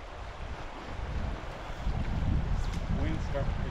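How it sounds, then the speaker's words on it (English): Wind gusting outdoors beside a river during a fly-fishing trip in Wyoming, a broad steady rush that grows stronger partway through, with soft water movement and a voice speaking underneath. "Wind's starting to pick up too."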